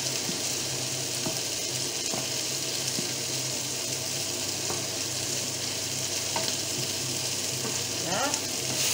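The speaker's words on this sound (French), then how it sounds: "Et on remue" A béchamel filling mixture for cannelloni is stirred in a pan, giving a continuous close sizzle and hiss with faint scraping strokes throughout.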